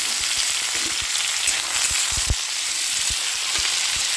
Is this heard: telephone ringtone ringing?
no